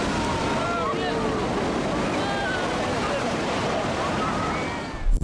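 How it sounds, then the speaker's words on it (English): Heavy surf and churning water from the cement carrier MV Ireland as it launches into the water at the Ferus Smit shipyard in the Netherlands, a loud, steady rushing roar with wind buffeting the microphone throughout. "Massive waves explode as the MV Ireland cement carrier launches at Ferris Smith"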